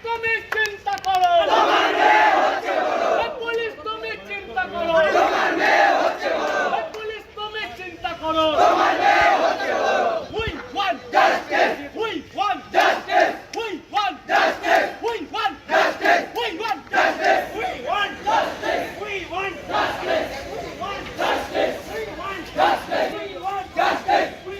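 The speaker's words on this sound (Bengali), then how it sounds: "এরপর আন্দোলনকারী ছাত্র সংগঠনের সদস্যরা সেখানে তুমুল বিক্ষোভ দেখান" Loud crowd of student protesters chanting and shouting in a street demonstration in Malda, rhythmic slogans rising and falling for the whole stretch with scattered individual voices.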